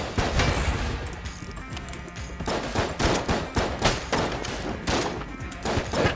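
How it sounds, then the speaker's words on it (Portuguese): Dense video game gunfire during a boss fight, with rapid overlapping shots and bursts that stay loud and continuous throughout, with no talk. "Dá-lhe muito tiro pra matar esse cara."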